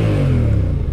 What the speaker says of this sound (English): it sounds like a scooter, but when I get the aftermarket exhaust on this bike